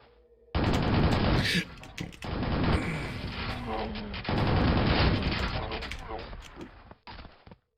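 Grenade launcher fire in a Quake mod, a dense run of loud blasts and explosive bursts that fills most of the stretch, with a couple of heavy peaks and a tail that thins out near the end.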